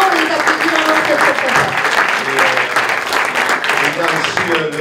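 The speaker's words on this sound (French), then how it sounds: "On peut applaudir, s'il vous plaît" An audience at a short-film awards night applauds the winning filmmakers, a dense, steady wash of clapping that fills the room for the full stretch with no pause.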